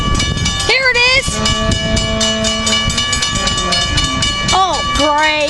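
Amtrak train on the Surf Line passing close and loud, with long sustained horn blasts, rising and falling engine tones and a continuous rumble of wheels on rails throughout.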